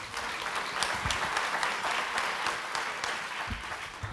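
An indoor audience applauding, with dense, sustained clapping from many hands that holds steady for several seconds.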